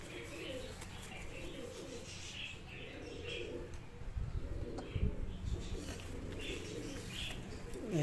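Soft, repeated cooing of pigeons in a loose rhythm, with faint chirps and a rustle of movement nearby.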